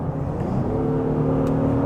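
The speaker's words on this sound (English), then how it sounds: "you can really hear the sound of that V6, which is kind of a nice thing" Honda Passport SUV's V6 engine revving at full throttle from inside the cabin, a steady rising drone with a smooth mechanical hum, fairly loud and alone.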